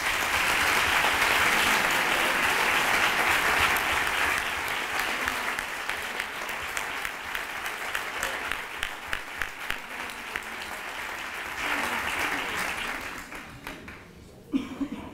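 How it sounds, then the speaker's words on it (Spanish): A crowd breaks into loud, sustained applause that gradually thins to scattered claps before a brief final flourish, at a Three Kings proclamation and coronation event in Nerva, Spain. "quiero que todo el mundo le haga un fuerte aplauso"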